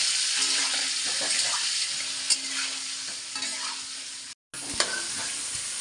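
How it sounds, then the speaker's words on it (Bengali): Singhi fish seasoned with salt and turmeric fries lightly in a pan, a close, steady sizzle with stirring scrapes and clinks, broken once by a brief gap, with no talk. "শিং মাছ বেশি ভাজলে শক্ত হয়ে যায় এই যে হালকা করে একটু ভাজা নিচ্ছি"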